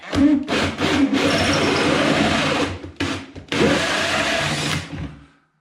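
A drill with a DAD dust collector attached whines loudly while boring a downlight hole, running in several bursts with brief pauses before winding down to silence.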